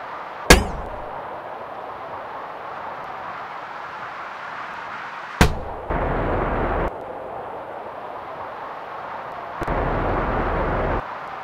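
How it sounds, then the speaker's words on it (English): Rockets in the Sled Simulator video game fire off: two sharp clanging bursts, each followed a moment later by a steady low whooshing rush lasting about a second, with a continuous game hum underneath and no talking. "I can get better rockets. They shoot sprinkles."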